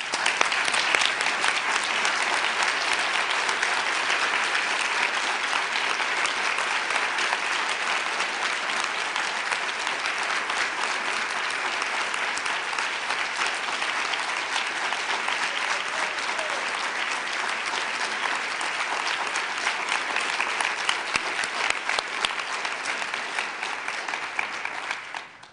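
A large audience at the International Women of Courage Awards applauds Beatriz Mutetwa, honored for her human rights work in Zimbabwe; sustained, even clapping fills the whole stretch at a moderate distance with no talk over it.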